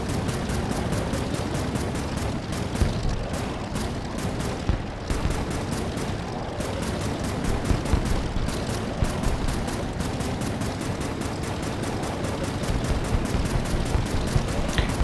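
Continuous rapid gunfire from shooting planes in the video game Air Wars 3, a dense rattling barrage that keeps going with little pause, loud and unbroken throughout.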